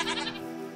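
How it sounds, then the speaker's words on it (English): Goats bleating in a modded Minecraft game, one short wavering bleat that rings out briefly and then fades, heard alone without talk. "Oh, there's goats."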